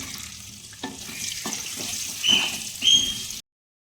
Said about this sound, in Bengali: আমি এখন আলুগুলো এখন ভেজে নিই